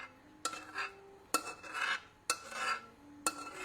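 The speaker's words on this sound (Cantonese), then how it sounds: "我哋幫我揾個匙羹咧，掘落嚟啊！" A spoon scraping and tapping in a pot while scooping out millet oil, four sharp metallic clinks spaced roughly a second apart, each followed by a short scraping rub, close and quiet, no talking.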